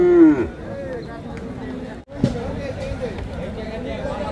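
At a village cattle market, a bull or calf lets out a loud moo at the start. Crowd chatter and nearby talking continue afterwards.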